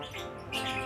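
A lovebird gives bright, quick chirps, a brief burst of high calls that gets louder near the end.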